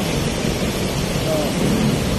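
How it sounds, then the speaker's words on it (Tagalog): Steady rain falls throughout, a dense continuous patter with a low rumbling wash beneath it and no voices. "Medyo umuulan eh."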